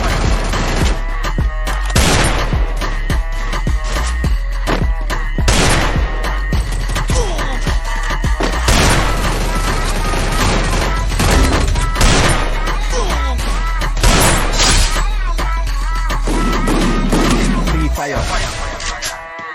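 Gunfire in the mobile battle game Free Fire, with dense loud bursts of shots and booms almost without a break, over game music and effects.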